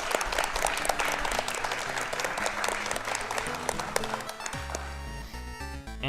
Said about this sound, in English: Another round of applause for our runner